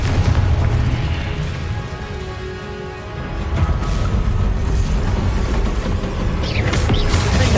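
Confringo spell blasts in the Hogwarts Legacy video game, a dense run of loud booming explosions and bursts with rumbling debris over continuous battle noise, no talking.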